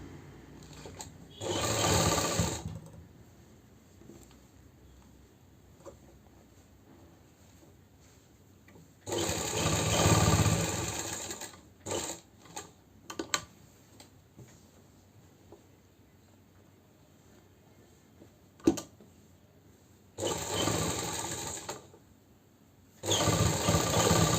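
A sewing machine stitches fabric for a collar-neck kurti in several separate bursts of rapid whirring, each lasting a few seconds, with quiet pauses and faint handling clicks between them.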